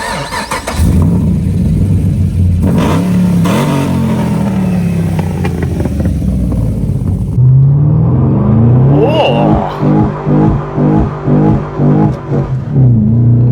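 Holden Commodore VF SS engine cranking and firing up, then settling into a loud, close idle broken by a series of sharp throttle blips, with faint voices in the background.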